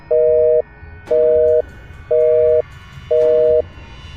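A telephone disconnect tone sounds after a call is cut off: four identical mid-pitched beeps in a steady on-off rhythm, each about half a second, clear and close with no voices.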